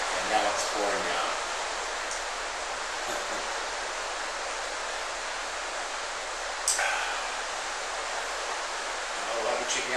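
Rain pours heavily outside a house at night as a constant wash of hiss, with a few brief louder spatters and rustles breaking through the steady downpour.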